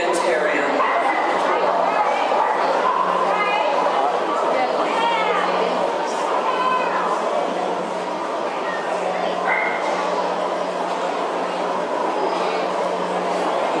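An Australian Terrier at an all-breeds dog show, Group 2 specials judging, with yips and barks among steady crowd chatter and commentary across the whole span.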